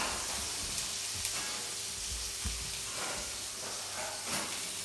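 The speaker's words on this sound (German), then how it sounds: "Der brät schon." Salmon sizzles in a hot frying pan with a steady, close hiss and crackle, with occasional soft pops and stirring knocks, and no voices.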